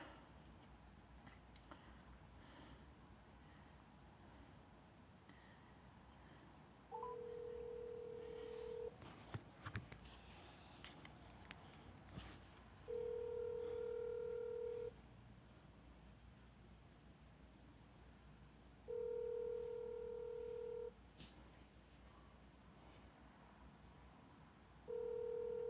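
Phone line ringing while a call to Sandra connects: four long, steady electronic tones of about two seconds each, evenly spaced by quieter gaps, heard alone over faint background hiss and clicks, with no one talking.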